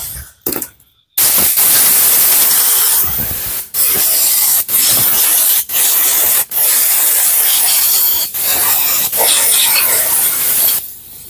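Aerosol cleaner sprayed onto Mitsubishi Pajero Sport engine parts during an engine rebuild, in a series of loud, close hissing bursts separated by brief pauses.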